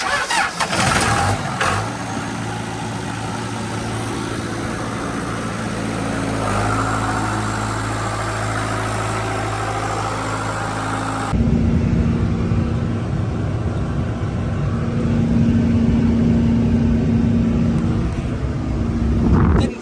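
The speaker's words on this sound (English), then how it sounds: "why don't you disengage the clutch before you start the motor?" Irrigation pump motor in Nebraska cranking and starting with a loud close rumble, then running steadily with a raised engine drone and a clear hum.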